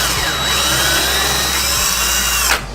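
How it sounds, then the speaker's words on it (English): A small drill bit bores a pilot hole into plastic, a loud, steady high power-tool whine that runs for about two and a half seconds and then stops abruptly. "Got a small drill bit here. I'm gonna do a pilot hole here"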